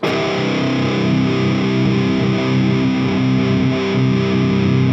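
A Mesa/Boogie Dual Rectifier Multi-Watt amplifier gives a thick, heavily distorted high-gain guitar tone that rings out steadily and loudly, sustained chords with a dense, saturated low end and no voices.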